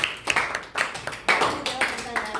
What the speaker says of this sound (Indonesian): tepuk tangan buat Karin ya